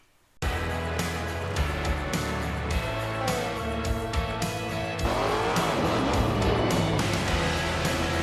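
Race cars in the video game NASCAR Heat 5 at Michigan roar in after a brief silence, a dense pack of engines droning loudly and steadily, with tire noise and cars sweeping past under the continuous engine wail.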